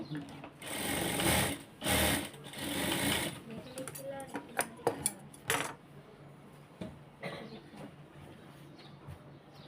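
A sewing machine stitches darts at the underarm of a blouse in bursts of fast whirring, loudest early on, followed by clicks and small metallic knocks as the work is adjusted, with some quiet talk.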